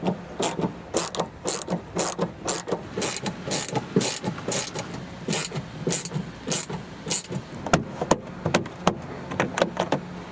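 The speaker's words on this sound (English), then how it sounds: "And now we can reinstall all the screws." Screws being driven back into the plastic interior trim panels of a Volvo XC liftgate (rear hatch door), a steady run of sharp, rapid clicking ratchet bursts, close and fairly loud, with no talking.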